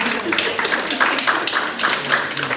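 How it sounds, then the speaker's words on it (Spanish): A university class applauds a student's psychopathology case review, with dense, steady clapping from a room of students, moderately loud throughout and mixed with some voices. "Aplausos para Schreber, por favor"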